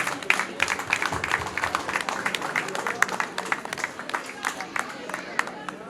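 Applause from wedding guests at a Burundian engagement and wedding, greeting the children's mother: a steady spread of clapping from a crowd, fairly close and continuous, with chatter and voices mixed underneath.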